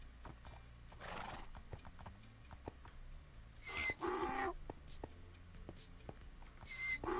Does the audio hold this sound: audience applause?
no